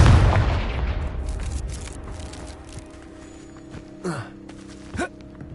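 A Confringo spell blast from Hogwarts Legacy lands as a heavy booming impact that fades into a rumbling tail, followed by two short whooshing bursts a few seconds later.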